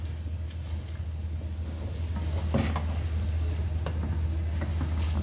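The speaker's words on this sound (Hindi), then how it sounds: "पालक डाल के इसको अच्छे तरीके से मिक्स कर लें मसाले में" Spinach stirred into spices in hot ghee sizzles softly under a constant low hum, with a few scraping spoon strokes against the pan.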